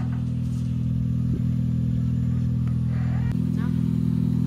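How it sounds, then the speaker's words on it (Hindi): A friend's Toyota Aqua pulls up nearby, its engine holding a steady loud hum throughout, with brief bumps in level along the way. "ये सामने गाड़ी आई हुई है"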